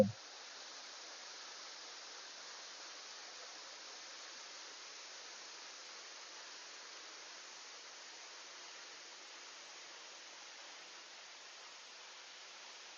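Samrong Kiat waterfall in Khun Han, Sisaket flows as a steady, soft, even hiss of falling water that continues without change, with no voices.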